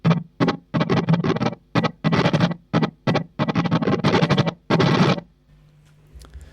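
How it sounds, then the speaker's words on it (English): Choppy bursts of electric guitar through a reverse delay on a Line 6 DL4 swell in and cut off abruptly in a stuttering rhythm, ending in a quiet hum. "I used the reverse delay on the line 6 DL4"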